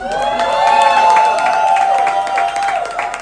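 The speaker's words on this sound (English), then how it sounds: "Please cheer for every one of these girls." An audience at a drag performance contest cheers and whoops loudly in a sustained burst of high-pitched screams and yells with scattered clapping, fading slightly toward the end.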